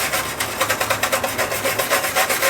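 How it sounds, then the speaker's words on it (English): Wire brush scrubbing rust and flaking paint off a van's metal panel, a loud close rasping with quick repeated back-and-forth strokes and no talk. "I'm gonna start hitting it with a wire brush"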